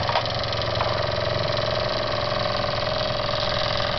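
A Jensen 75 toy steam engine, superheated and fitted with a new burner, runs steadily on a magnet-secured base, giving a continuous mechanical chugging hum with a faint rhythmic pulse throughout and no voices.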